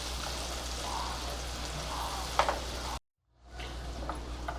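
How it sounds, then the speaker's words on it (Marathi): Onion sautéing in a pan until light pink, a close, steady sizzle with a couple of stirring scrapes, briefly cut to silence before the sizzle returns. "हलका गुलाबी होईपर्यंत आपल्याला कांदा परतून घ्यायचा आहे"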